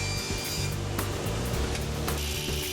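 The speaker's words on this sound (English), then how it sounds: "I cut the 9/16 inch thick top to its final dimension of 20 1/8 by 20 1/8" A saw cuts a 9/16 inch thick wooden tabletop, giving a short, steady buzzing cut with rough, scraping grit and a few sharp ticks along the way.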